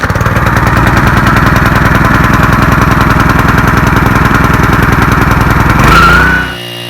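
A gas pressure washer rated at 3,000 psi and 2.7 gallons per minute, fitted with a replacement pump, runs loud and close after priming with the choke on. It chugs in a rapid, steady rhythm, then revs up and dies away near the end.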